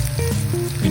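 Mustard seeds and shallots hit hot ghee in a pan as a tempering for Kerala parippu curry, a brief, loud, close sizzle and crackle.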